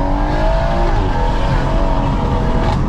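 A tuned 450bhp BMW M140i pulling hard at full throttle, its engine loud and close with a steadily climbing drone that holds for the whole stretch, heard from inside with a window down.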